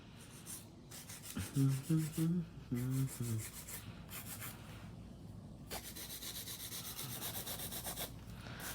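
Acrylic nails are filed and shaped into a tapered square, heard as close, scratchy rubbing strokes in quick uneven bursts, with a few squeaky tonal scrapes, then steadier filing.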